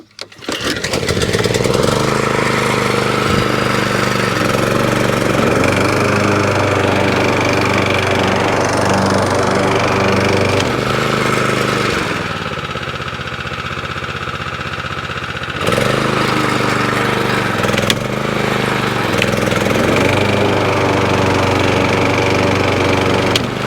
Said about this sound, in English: So turn the fuel on, put that onto choke mic.